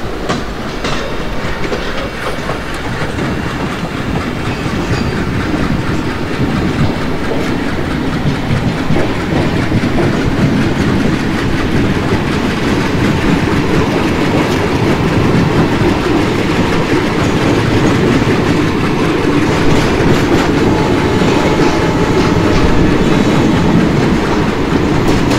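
A Bhusaval-Katni passenger train in the MSTS Open Rails simulator rolls steadily along the main line, with a continuous loud rumble and rhythmic clickety-clack of wheels over rail joints throughout.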